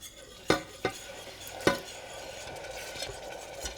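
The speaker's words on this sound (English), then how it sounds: "I'm going to gradually begin to whisk in the beef broth" A whisk works beef broth into a smooth roux in a pan over medium-low heat, giving a few sharp metal taps near the start and then soft, continuous scraping and stirring.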